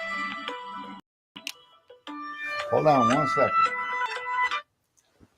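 A phone rings with a melodic electronic ringtone in bursts. Someone speaks briefly over it before the tone stops.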